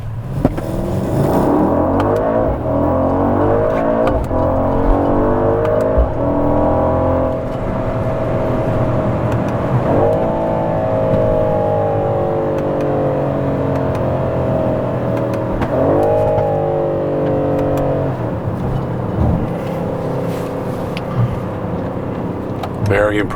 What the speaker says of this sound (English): Love the exhaust, the Sport exhaust as well.